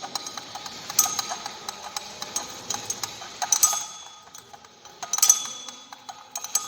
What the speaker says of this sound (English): The alcohol is added in lots with constant stirring.